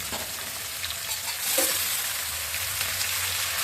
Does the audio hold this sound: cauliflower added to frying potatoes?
yes